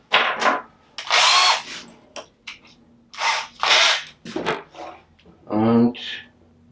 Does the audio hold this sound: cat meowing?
no